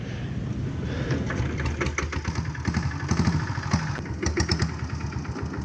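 An old diesel Royal Enfield vintage motorcycle, forty to fifty years old, runs with a steady chugging idle, its engine knocking in a quick even rhythm up close, with no talking.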